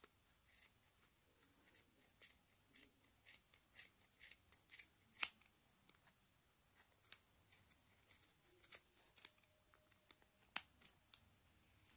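Scissors snip through yarn while trimming a pom-pom, a series of faint, sharp close clicks and cuts at an irregular pace against a quiet background.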